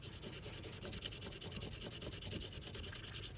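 Close, soft rasping of sandpaper on a stag bone knife handle, continuous quick back-and-forth strokes, quiet and alone.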